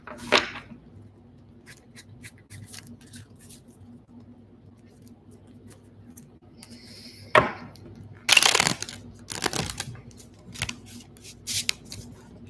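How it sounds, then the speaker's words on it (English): A deck of tarot-style reading cards is shuffled by hand, with a few sharp riffles and slaps coming in short bursts after a long quiet stretch, close to the microphone. "Shuffle these cards one more time here."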